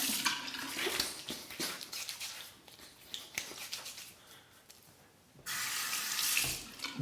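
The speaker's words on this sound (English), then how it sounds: "Quick rinse to the face." Water runs from a sink tap as it splashes and rinses a face after a wet shave, with irregular splashes and cupped-hand bursts, then a steadier flow near the end.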